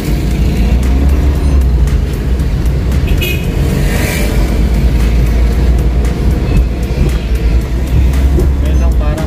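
Busy street traffic with jeeps on Pedro Gil Street in the morning: a steady, loud rumble of engines and revving vehicles passing close by, with voices mixed into the constant road noise.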